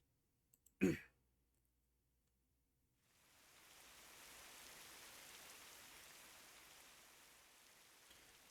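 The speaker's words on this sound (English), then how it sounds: "I can hear the rain." Rain in Fate/Grand Order: a short burst of noise, then steady rain sets in and keeps falling as a soft, even hiss for several seconds.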